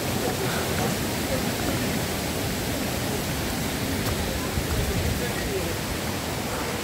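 Turgen Waterfall in the Kazakh mountains, a loud, steady, broadband roar of falling water that stays constant throughout with no breaks.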